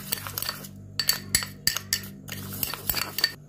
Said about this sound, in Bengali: এবার চিনিটাকে আর কফিটাকে ভালো করে গুলে নেবো